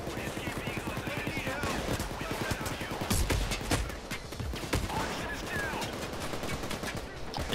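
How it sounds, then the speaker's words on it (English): Rapid automatic gunfire bursts from the heist shooter Payday 2, dense and continuous with sharp cracks stacked over a steady rattling rhythm, loud and close throughout, with a few heavier blasts midway. "Suppressing fire!"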